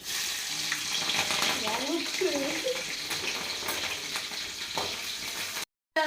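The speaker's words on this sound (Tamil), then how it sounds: "தேவையான அளவு கடுகு போட்டுக்கலாம். அடுத்ததாக வந்து பச்சை மிளகாய் போட்டுக்கலாம்." Mustard seeds and green chillies fry in hot groundnut oil, giving a steady, close sizzle with faint crackles through the clip and a brief cut-out near the end.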